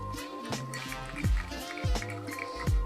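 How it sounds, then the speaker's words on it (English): Spiced rum cocktail with sugar and orange bitters being stirred in a glass, giving soft liquid swishes and a few clinking strikes at a steady pace, close and quiet, with no talk. "And then we'll just give this a stir."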